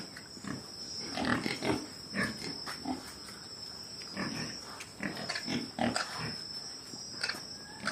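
Pigs on a pig farm, heard as a shifting mix of grunts and snuffles from several animals close by, with a steady high insect-like whine running throughout.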